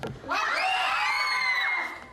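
A class of schoolchildren in a Kyiv school lets out one loud, sustained group shout during a sound experiment, rising sharply after a brief quiet and holding for about a second and a half before fading.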